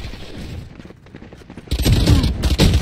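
Loud, dense rapid gunfire from a shooting video game, sustained bursts that swell heavier in the second half, with players talking over it.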